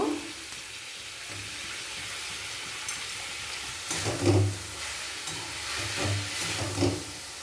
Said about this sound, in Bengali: মাংসের কিমাটা প্রথমে রান্না করে নেব